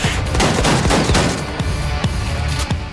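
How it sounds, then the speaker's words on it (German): Rapid bursts of gunfire from a shotgun in the video game Wolfenstein 2: The New Colossus, loud and close, with several sharp blasts in quick succession over a dense background of battle noise. "Ich treffe ihn nicht mit der Shotgun und nachladen"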